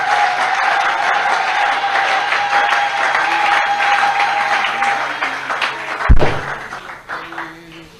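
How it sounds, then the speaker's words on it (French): Church congregation applauding in praise during a service, a full, loud wash of clapping with some rhythmic thumps, and a sharp thud near the end as the clapping thins out. "Donnez les offrandes des acclamations."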